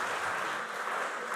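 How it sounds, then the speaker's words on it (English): An audience applauds at a school quarter-final competition: a steady, dense wash of clapping that holds for about a second and a half without a break. "A round of applause for him."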